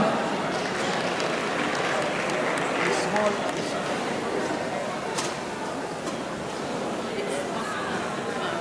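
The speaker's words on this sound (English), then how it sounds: "A round of applause for her as well." A Lagos 2022 fashion show runway audience keeps up a steady round of applause mixed with crowd chatter, a moderate, even wash of clapping heard from the hall.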